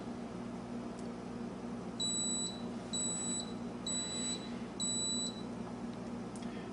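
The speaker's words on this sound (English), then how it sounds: "An alarm will sound at the selected time, 1 minute for this example." Four evenly spaced electronic beeps from a brewing controller's boil timer alarm, each a short high-pitched double-tone burst about a second apart, over a steady low hum.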